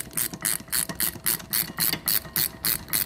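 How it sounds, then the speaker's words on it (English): A rear brake caliper piston on a car with an electric park brake is squeezed and turned back with grips, producing a fast, even run of loud, close mechanical ratcheting clicks, roughly four per second. "while squeezing with your grips, or using an air-powered thingy, squeeze and turn"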